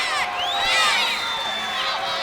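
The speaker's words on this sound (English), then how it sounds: "you can hear this crowd instantly sharing their" A wrestling anniversary-show crowd cheers and shouts in an arena, with high excited whoops and voices rising and falling over a continuous roar of the audience.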